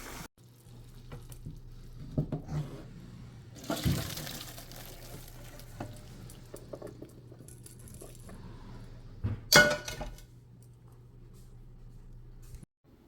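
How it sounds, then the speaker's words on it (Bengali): Boiled minced meat being drained, a steady soft pour of water into a sink with a low hum beneath and a few clattering knocks, fairly quiet, no talk. "এখন চুলাটা অফ করে আমি কিমাটাকে ড্রেন করে নেব"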